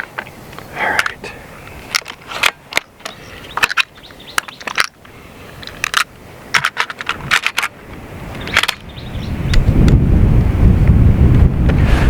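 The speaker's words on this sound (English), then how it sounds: "Got a pretty decent right to left wind picking up at this point" Wind at an outdoor shooting range, buffeting the microphone in gusts that build into a heavy, loud rumble toward the end, with scattered clicks and knocks of handling in the foreground.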